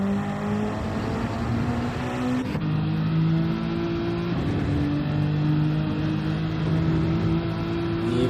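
Toyota Supra and Mercedes race cars run on the Nürburgring Nordschleife in a DTM Legends support race, engines droning loudly at high revs with rising pitch sweeps as they upshift and accelerate, sustained and fairly close.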